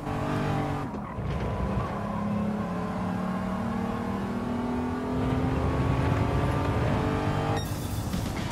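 Race car in Gran Turismo 7 easing off the throttle and braking into a corner at Tsukuba, engine note dropping with tires scrubbing and squealing, loud and continuous, then revving back up.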